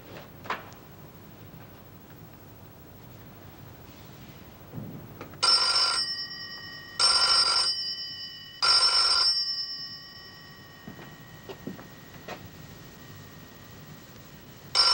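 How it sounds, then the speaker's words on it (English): A telephone bell rings three times in clear, evenly spaced bursts, loud and close against a quiet room with faint background noise, in a 1970 Cold War spy drama. "Ring 3 times and hang up."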